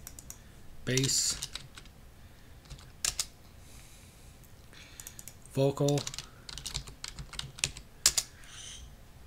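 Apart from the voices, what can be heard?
typing on a computer keyboard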